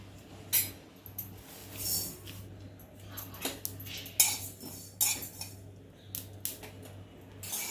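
Whole spices, including cloves, dry roasting in a pan, heard as irregular metallic clinks and scrapes of a spoon stirring against the pan over a faint steady hum, close and quiet.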